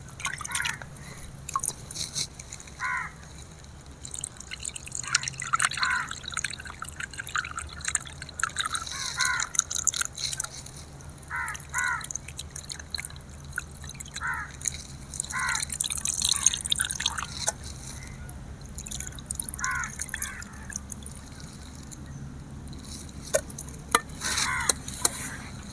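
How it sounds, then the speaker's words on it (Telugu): Soaked tamarind pulp is squeezed by hand and poured over small pieces of pond fish, giving soft wet squelches and drips in irregular bursts, close and quiet, with no talking. "ఇప్పుడు ఈ చింతపండు గుజ్జును అయితే మెత్తగా చేసేసి చేప ముక్కలల్లో పోస్తున్నా."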